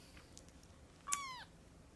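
A pet cat lets out one short, rising-then-falling meow, close by and clear against a quiet room background.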